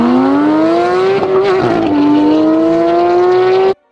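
A Porsche GT3 engine in sport mode screams loudly at high revs during a race, its pitch climbing steadily, dipping briefly at a shift, then rising again before cutting off abruptly.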